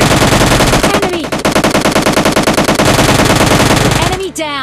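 Loud, sustained bursts of rapid machine gun fire in a video game, nearly continuous for several seconds, with a few other shots and impacts mixed in.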